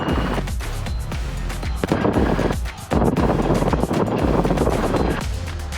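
A Rotorway helicopter touches down after autorotation practice, its rotor throwing out loud, close, rapid rhythmic thumping mixed with wind buffeting, with a brief dip before the chopping resumes.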